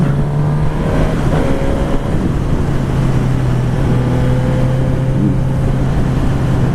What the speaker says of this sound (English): like the 750, this engine's incredibly smooth. It has a little bit more buzz though than that Bandit did.